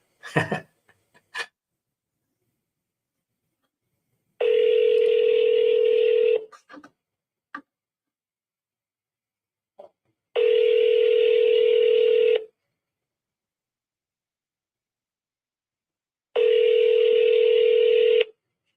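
Touch-tone keypad tones from a telephone for a cold call to a cash buyer, a few quick beeps at the start, then three long, loud, steady ringback tones spaced evenly with silence between.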